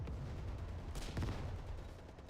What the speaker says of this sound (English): If you just listen to the amount of explosions and gunfire and aircraft and all this stuff